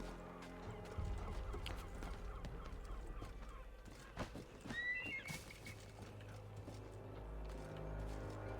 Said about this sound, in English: Out of the way, bird.